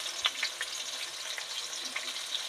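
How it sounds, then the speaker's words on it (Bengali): Potatoes fry in oil with a soft, even crackle and small pops spread throughout, fairly quiet and close, with no voices. "আলু ভাজা হচ্ছে"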